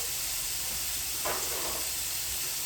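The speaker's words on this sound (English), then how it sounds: "And you can hear that sizzling. That's a good sign." A steady, close hiss of sausage sizzling in a pan, with a brief louder flare of crackle partway through.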